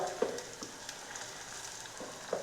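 Chopped tomato and green chillies fry in a pan with a faint, steady sizzle and a few soft stirring taps, close but quiet.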